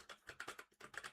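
Rapid typing on a computer keyboard, a quick run of close, crisp key clicks in a steady rhythm with one short pause partway through, no voices.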